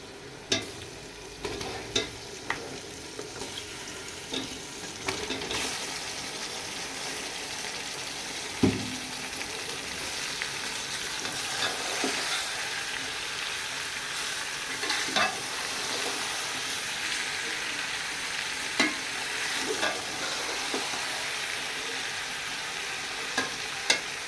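Chicken browning in a pan for teh wali biryani, a steady moderate sizzle broken by occasional sharp clinks and scrapes of a spoon stirring, with no voices.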